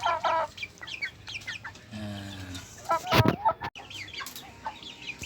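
Bantam chickens cluck and chatter nearby in a busy farmyard, with scattered calls and a brief louder squawk midway.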